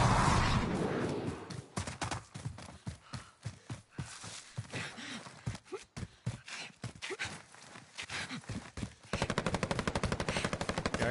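Video game gunfire in a firefight: rapid bursts of machine-gun shots and single cracks rattle in uneven volleys over about ten seconds, ending in a sustained stream of automatic fire.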